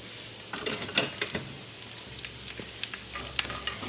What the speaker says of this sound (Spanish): Así la voy a poner aquí y la voy a dorar.